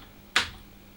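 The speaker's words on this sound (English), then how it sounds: "now we can start typing" One sharp keystroke on an Apple I computer keyboard, a single crisp click standing out against a quiet background.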